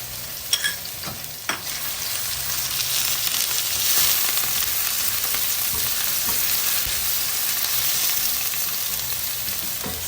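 Fresh onion and chopped garlic fry in a little oil for Jamaican callaloo, a steady close sizzle running throughout, with a couple of sharp clinks from a utensil near the start.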